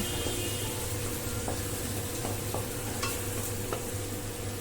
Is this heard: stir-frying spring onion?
yes